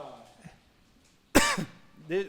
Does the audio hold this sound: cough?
yes